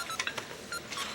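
A pocket cell phone ringing in a school locker hallway, a short bright electronic ringtone of a few rapid beeping notes, close and moderately loud, no voices.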